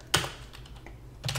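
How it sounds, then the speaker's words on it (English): Keystrokes on a computer keyboard while entering terminal commands: two short clustered bursts of tapping, one at the start and one near the end, with quieter isolated clicks between, close and fairly soft. "I'm going to hit the tab on my keyboard"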